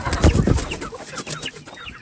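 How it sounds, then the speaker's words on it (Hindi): A hen belonging to a black Aseel rooster clucks in a few short, close bursts over a brief span. "ये जो हमारा ब्लैक असील मुर्गा है उसकी मुर्गी आ गई"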